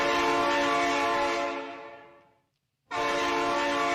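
A loud, sustained train horn blast sounds alone, fades out into a brief silence, then cuts back in abruptly at full strength.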